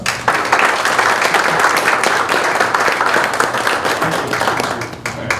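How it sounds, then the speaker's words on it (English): A crowd at the Austintown Township trustees' public meeting applauds steadily for the full stretch, dense sustained clapping with a few faint voices mixed in. "Let's give him a round of applause."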